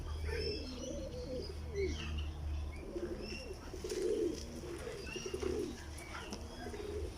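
Philippine pigeons at a bird park coo in repeated low, rounded calls, with other birds chirping faintly in the background and a steady outdoor ambience underneath.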